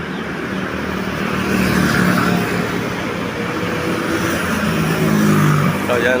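Japan Airlines airliner engines warm up on the ground at an airport, a steady, loud roar that swells twice, with no talking over it.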